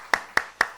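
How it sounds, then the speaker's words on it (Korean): Hand clapping during a Sunday church service to welcome visiting guests: four sharp, evenly spaced claps ringing close and clear in a quiet room. "우리 박수로 한번 환영하도록 하겠습니다"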